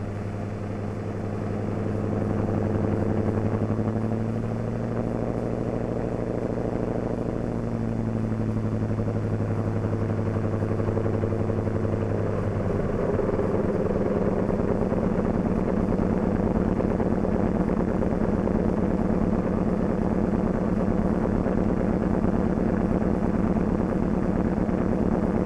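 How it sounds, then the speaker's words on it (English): A C-47 Skytrain aircraft engine runs with a steady, droning piston roar, its pitch shifting and building as a second engine comes up to speed, continuous and fairly loud throughout. "we've got to start the other engine before we can taxi"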